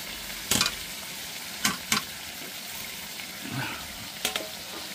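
Fried potatoes stirred into goat meat curry in a pan over a village wood-fired stove, with scraping spoon strokes over a low sizzle; several sharp clatters stand out against the steady frying.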